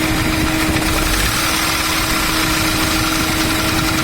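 A Ford Ka three-cylinder engine runs with an abnormal noise, holding a steady, close idle with a constant mechanical hum and vibration throughout and no voices.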